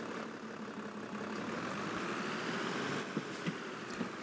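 Tractor engine with a front loader in Farming Simulator 22, a steady low idling drone throughout with a few faint knocks near the end, no talk.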